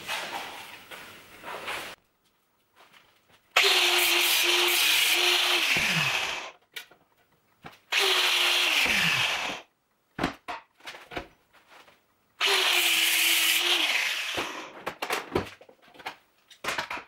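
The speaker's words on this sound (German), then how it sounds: "Ohne Flex geht heute mal nichts." An angle grinder works on the metal of a Vespa V50 scooter under restoration, running in three loud bursts of a few seconds each, spinning down between them with clanks and handling noises in the pauses.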